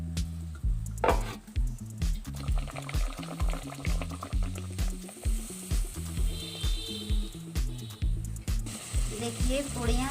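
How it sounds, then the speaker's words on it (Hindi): Puris frying in hot oil in a halwai-style kitchen, a steady sizzle under a repeating rhythmic clatter of a utensil stirring or tapping in the pan, with bursts of bubbling throughout. "तेल गरम हो गया है। अब पूड़ी तल लेंगे।"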